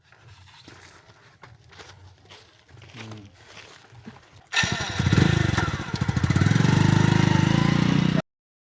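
A motorcycle engine starts up after quiet scuffling and runs loud and close, a steady mid-pitched drone that swells briefly before cutting off abruptly.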